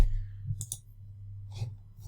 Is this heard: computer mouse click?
yes